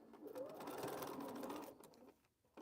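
A sewing machine stitching a quilt block seam, a quiet, fast, steady whirring run that slows and stops near the end, followed by a faint click.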